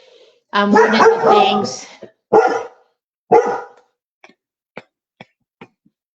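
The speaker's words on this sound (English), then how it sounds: "My dog was barking." Dog barking indoors with several loud, close, rough barks in quick succession, followed by a string of fainter short clicks and taps.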